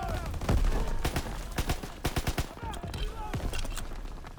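A rifle and other guns fire in a World War II D-Day battle in Call of Duty WW2, a rapid series of loud, sharp, close shots in bursts with echoing battle noise between them.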